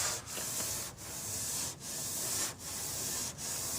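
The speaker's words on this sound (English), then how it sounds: "and just sand." Hand sanding of body panels on a 1995 Ford F250 front end, steady rasping strokes in a regular back-and-forth rhythm, about five passes, loud and close.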